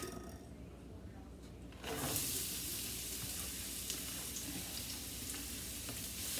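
Onions hit hot olive oil in a pan and burst into a loud, steady sizzle that hisses on without a pause.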